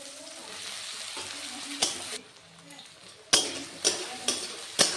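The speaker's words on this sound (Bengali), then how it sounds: "টমেটো আর পেঁয়াজটা ভাজা ভাজা হতে থাক" Tomatoes and onions fry in a pan of hot oil, giving a constant sizzle broken by several sharp scrapes and clatters from stirring, loud and close.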